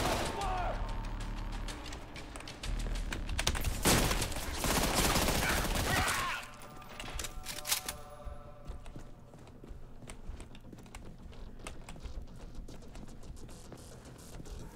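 Heavy shotgun blasts in the Trepang 2 demo, a dense loud volley of booms followed by scattered sharper shots and clatter, with a player talking over the game sound.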